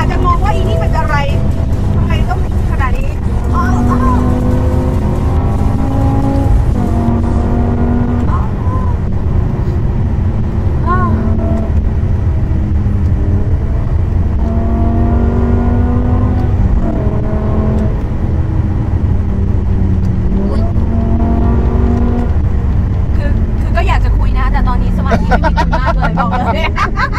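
BMW M6 with its V10 engine revving hard and accelerating, loud rising and falling howls through repeated gear pulls, with people talking over the engine throughout.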